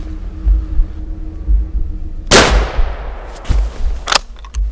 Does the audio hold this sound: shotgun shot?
yes